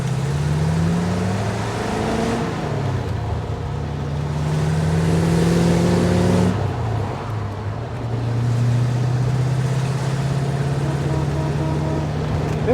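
A 1953 Allard K3 engine warms up and revs, its low throaty note rising and falling through several throttle blips over a steady idle, loud and close.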